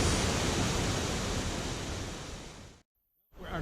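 Bridal Falls waterfall pours in a dense, constant, hissing rush of water, loud and close, then cuts out abruptly for about half a second before resuming.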